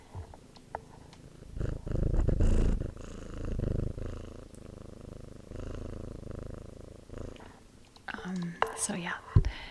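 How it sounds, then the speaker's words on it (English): A kitten purrs softly up close in a low rumbling drone, with faint rustling and a brief whisper near the end. "I'll just see if you can hear his purrs."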